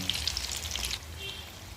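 Pumpkin flowers fry in hot oil with a bright, crackling sizzle and popping spatters that fade to a quieter hiss partway through, heard close up and without talk.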